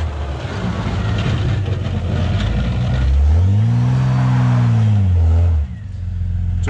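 Engine of a Jeep Cherokee plow rig revving hard in two-wheel drive while pushing snow uphill, a loud steady drone that climbs sharply in pitch, holds high for a couple of seconds, then drops off abruptly, with no talk.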